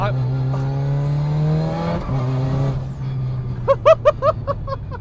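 A high, thin sequential gearbox whine rises over a loud Mitsubishi Lancer Evolution VI engine drone, cuts off, then sharp revving blips follow in quick succession.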